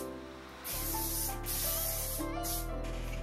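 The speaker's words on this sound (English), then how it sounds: "So UV spray, UV/heat spray." A UV/heat protection hair spray hisses in two long, close bursts, each a bright sustained spray with a brief pause between, over a quiet room.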